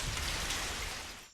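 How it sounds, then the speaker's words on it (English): Cartoon rain pours from a giant rain cloud, a steady close hiss of falling drops that thins out and fades in the last moment. "that rain ruined everything"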